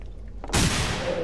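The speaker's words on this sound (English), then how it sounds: "There goes one grenade." A grenade explodes in the video game The Hidden: a single sudden blast about halfway through, followed by a loud, sustained noisy roar that lingers to the end, with no speech.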